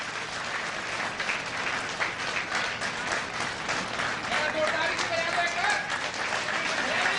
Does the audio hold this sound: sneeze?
no